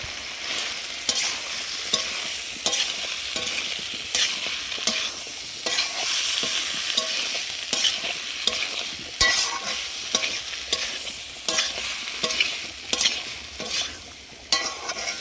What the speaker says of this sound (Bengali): এদিকে সয়াবিনটা কষানো হচ্ছে